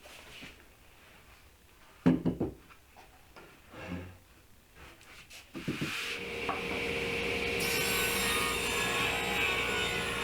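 Wood for shelf legs, 1.25 by 2.5 inches, is cut for a rustic shelving unit: a few scattered knocks and scrapes first, then a steady, fairly close saw drone that builds and holds through the second half.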